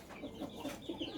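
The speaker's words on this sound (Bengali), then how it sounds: "এই যে এইখানে 2টা মোরগ আর 2টা মুরগি আছে" Two roosters and two hens kept apart in an enclosure give a few soft, short clucks, faint and near, over a low background.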